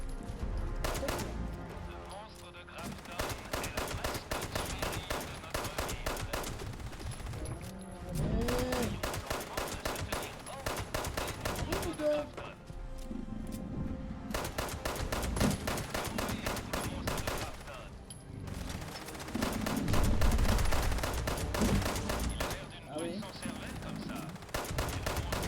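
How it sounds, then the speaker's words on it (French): Shotgun blasts go off again and again during a Fallout 76 fight, sharp and loud with short gaps between bursts, while people talk over the gunfire. "le fusil à pompe c'est mieux"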